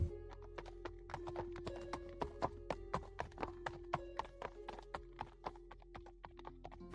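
Hooves of a horse-drawn carriage clip-clop in a steady, close walking rhythm of sharp knocks over a low rolling rumble and a faint hum.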